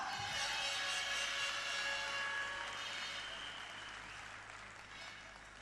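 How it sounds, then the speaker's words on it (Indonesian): A business seminar audience breaks into dense, sustained applause that fills the room with steady clapping and slowly fades, with a faint tonal hum underneath. "Berikan tepuk tangan yang sangat meriah untuk Bapak Roy Ketalakua."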